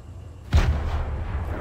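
A frag grenade goes off in a Fortnite match with one sudden, heavy boom that fades into a low, rumbling tail.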